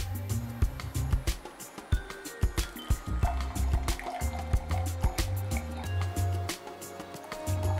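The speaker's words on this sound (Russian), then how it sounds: "и выливаем бокал." Coffee brewed with fruit juice in a press is poured into a glass, giving a steady liquid trickle and splash with faint background clatter and no talk.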